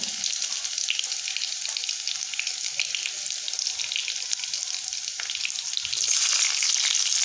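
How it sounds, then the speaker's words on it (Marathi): Garlic dropped into hot oil for masala pasta, a bright continuous sizzle with fine crackling and a louder surge of spitting toward the end, no talking. "हे पा तेल मस्तपैकी गरम झालेलं आहे आपण लसण टाकून घेऊ"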